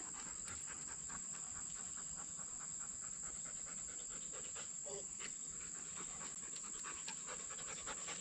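Dogs pant rapidly and continuously nearby, with a steady high insect-like whine running underneath throughout.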